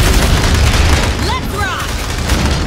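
Gunfire and a heavy grenade blast from the Aliens: Dark Descent video game, with deep booming rumble and rapid shots throughout, loud and close, mixed with shouting voices and brief whistling tones.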